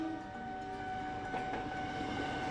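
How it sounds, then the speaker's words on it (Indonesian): A KRL Jabodetabek electric commuter train in Jakarta rumbles along the rail line, a moderate steady rolling noise with a faint tonal hum from the electric motors, heard at some distance with no voices. "Angkutan massal berbasis rel di Jakarta dipelopori dengan kehadiran kereta rel listrik atau dikenal dengan nama KRL Jabodetabek."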